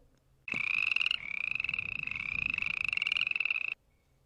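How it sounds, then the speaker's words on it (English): A single frog gives a long, loud rattling croak lasting about three seconds, pulsing rapidly, close up against a quiet background. "a frog that jumped up from below"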